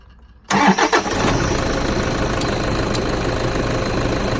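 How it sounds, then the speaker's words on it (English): The starter of a 2005-2015 Toyota Hilux N70 cranks briefly with a few pulses before the engine fires and settles into a steady, loud idle. "So firstly, start up the engine."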